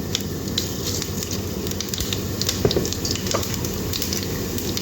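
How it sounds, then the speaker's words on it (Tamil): Mustard seeds spluttering and popping in hot oil while making a potato stir-fry, a dense steady crackle with sharp pops scattered across it, close and fairly loud, no voices. "கடுகு நல்லா பொரியுது"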